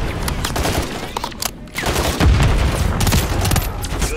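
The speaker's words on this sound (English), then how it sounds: "There's enemy fire!" Rapid bursts of automatic gunfire and firefight noise from the video game Call of Duty: Modern Warfare III, loud and continuous with heavy low booms, dense overlapping shots throughout.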